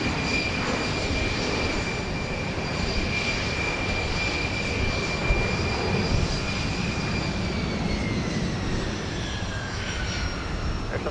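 A United Express regional jet departs Houston Intercontinental at night, its steady broad engine roar holding loud and close throughout with a high whine slowly falling in pitch, no voices over it.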